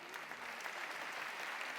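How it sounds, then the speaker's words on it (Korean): A congregation applauds warmly at a church retirement service for elders, a dense, steady wash of clapping from many hands all the way through. "이제 우리 장로님들 인사하실 때 다시 한번 뜨겁게 감사의 박수를 보내도록 하겠습니다."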